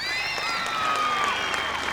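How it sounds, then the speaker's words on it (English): A stadium crowd at the 1996 Brisbane Grand Prix athletics meet cheers and applauds a world record holder in a steady roar, while whistles rise faintly over the din. "Great cheer too for the world record holder"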